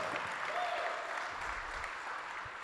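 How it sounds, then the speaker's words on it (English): An audience at the ENnies 2025 awards claps together in a sustained round of applause, steady and fairly distant, filling the room for a few seconds. "So everybody give Jay a round of applause, please."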